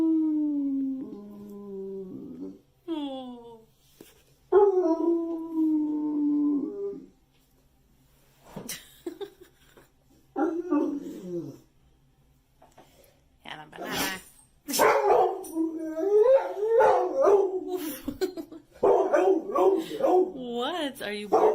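A dog yips, whines and howls in drawn-out, wavering cries, close and loud, coming in bursts with silent gaps between them, mixed with people talking to it.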